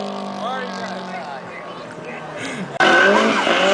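A drift car on Yokohama tires sliding at Atlanta Motor Speedway in 2005, with wavering tire squeal and engine under a commentator's voice, then a sudden loud close burst of engine roar and screeching.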